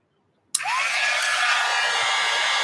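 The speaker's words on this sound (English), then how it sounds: "let's dry this. All right, heat gun." A heat gun used to dry art materials clicks on and runs as a loud, steady blowing whoosh, close by and continuous to the end, with no talking.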